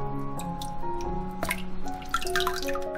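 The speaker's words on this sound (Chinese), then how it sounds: "我们现在来把这些杂质给它洗掉。 我们可以借助一下这个漏刷来清洗。" Soaked peach gum being rinsed with water in a strainer, giving close, wet dripping and sloshing with small splashes over steady background music.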